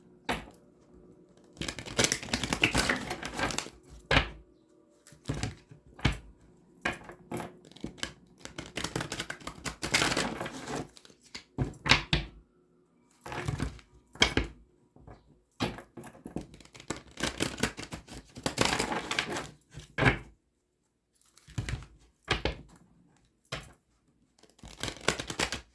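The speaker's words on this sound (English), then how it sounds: "Let me get you some good shuffles and we will begin your reading." Tarot cards being shuffled in repeated bursts of riffling and flicking, close up, separated by short pauses.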